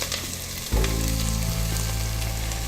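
Spices sautéed in a hot pan for Fiji-style pumpkin curry: a quiet start gives way to a sudden loud sizzle as they hit the oil, then a sustained crackling fry continues close by.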